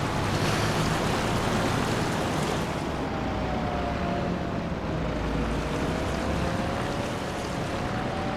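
Farm vehicle rolling through standing storm water in Farming Simulator 25, a steady broad wash of splashing and sloshing with a low engine hum underneath, continuous and fairly close throughout.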